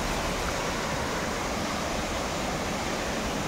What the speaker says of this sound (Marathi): सुंदर धबधबा चालू आहे,